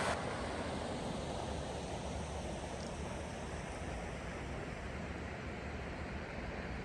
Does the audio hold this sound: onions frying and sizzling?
no